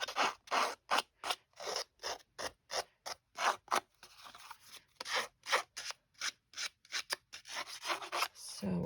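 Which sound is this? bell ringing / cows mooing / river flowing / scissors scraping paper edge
scissors scraping paper edge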